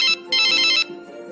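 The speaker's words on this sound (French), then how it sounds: "Sophia retourne dans le salon et rappelle Marie." A telephone rings in two clear electronic bursts, a short one followed by a longer one after a brief gap, loud and close, with no talking over it.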